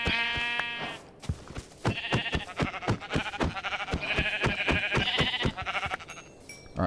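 Sheep in a hardcore Minecraft survival world bleat clearly at the start, followed by a rapid series of sharp clicking game sounds, with another bleat partway through.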